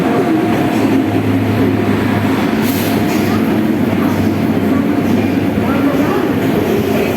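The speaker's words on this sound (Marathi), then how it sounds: "ट्रेन आली आहे" A train arriving at Panvel station rumbles steadily nearby with a loud, continuous low roar and faint rail clatter, filling the whole stretch.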